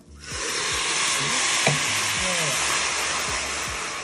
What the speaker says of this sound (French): on aura fini d'entendre le vin s'évaporer